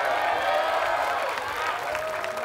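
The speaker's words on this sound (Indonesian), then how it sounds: "Kita tepuk tangan buat Lutfi" Studio audience on a dating game show applauding and cheering for a contestant named Lutfi, a steady dense wash of clapping and crowd noise throughout.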